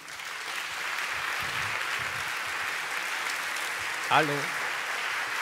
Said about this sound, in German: Oscar-Applaus nehmen wir mit für Stefan Rosowitzki